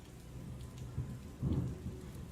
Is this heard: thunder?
yes